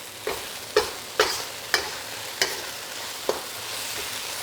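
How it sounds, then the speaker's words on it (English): Beef sizzles and fries in a pan, a steady hiss punctuated by about seven sharp scraping strokes of a spatula stirring the meat, close and without talk. "We're gonna cook our meat almost all the way through."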